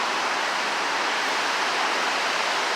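Water from a large water main break drains in a steady rushing hiss, like a small waterfall, continuous and moderately loud with no voices.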